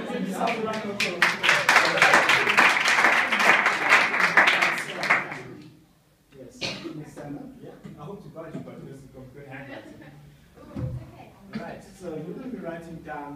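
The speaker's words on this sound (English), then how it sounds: "give yourself a round of applause" An audience applauds loudly at a school facilitation session, a dense burst of clapping for about five seconds that cuts off abruptly, followed by people talking and murmuring in a room.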